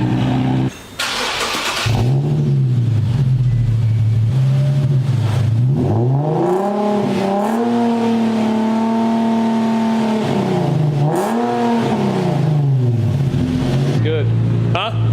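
Infiniti G37 with resonator and muffler deleted, its exhaust revving up and down several times nearby, loud and raspy, with rising and falling engine pitch sustained through most of the stretch.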